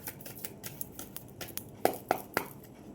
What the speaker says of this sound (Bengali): আর একটা কার্ড নেব।